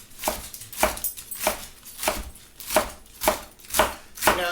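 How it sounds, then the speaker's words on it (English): A knife roughly chops through a head of salad greens on a board, making eight evenly spaced crisp thuds close up, with nothing else heard. "just take the second one, just roughly chop this"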